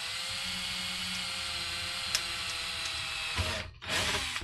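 A power drill boring pilot holes during an axle swap on an SCX10 RC crawler, a steady whirring drone running continuously up close, then stopping briefly near the end before spinning up again.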